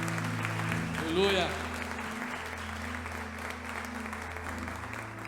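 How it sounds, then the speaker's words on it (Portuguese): Louder, fuller applause from a standing church congregation fills the room, continuous and close, while a voice calls out briefly over it and a sustained keyboard drone hums underneath. "Aplauda mais forte, igreja."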